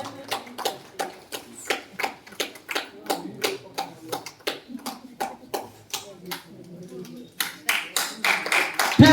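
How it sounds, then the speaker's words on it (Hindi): Steady, rhythmic clapping in unison, sharp regular claps repeating several times a second throughout, with a faint murmur of voices underneath. "फिर जोरदार तालियां।"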